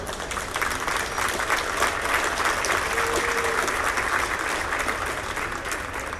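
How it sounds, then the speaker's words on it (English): A boxing crowd at the US Olympic Trials gives dense, sustained applause for both boxers after a bout, a steady wash of many hands clapping that holds evenly throughout. "Big round of applause for both boxers."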